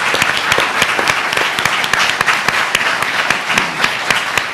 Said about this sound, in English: everybody that is here that presented deserves a round of applause